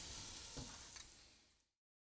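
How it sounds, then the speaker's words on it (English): Onion and pepper sautéing in butter in a pan for meat sauce, giving a steady close sizzle with faint stirring that trails off to silence partway through. "So I'm gonna add in both the pepper and the onion. We're gonna let it soften and saute."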